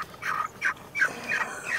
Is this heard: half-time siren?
no